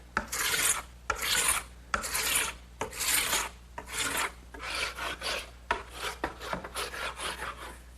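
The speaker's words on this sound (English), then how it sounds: "I'm just going to use a scraper and remove all that wax" Hand scraper stripping dirty wax off rough wooden stock for an Adirondack chair, a series of close, rasping strokes repeated rhythmically, about a dozen scrapes with short pauses between them.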